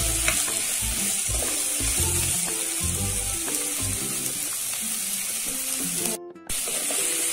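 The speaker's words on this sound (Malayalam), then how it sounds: "ഇനി നമ്മൾ എടുത്ത് വെച്ചിട്ടുള്ള സവാള ഇതിലൂടെ നന്നായിട്ടൊന്ന് ഒരു സമയമൊന്ന് വഴറ്റും." Sliced onions sautéing in a pan for ladies finger sambar, a loud continuous sizzle up close with the spatula knocking and scraping in an irregular rhythm, briefly cut near the end.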